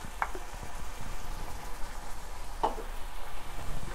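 Ground tomato for pizza sauce simmering in a pan, giving a faint, steady bubbling sizzle with a couple of soft pops, heard alone.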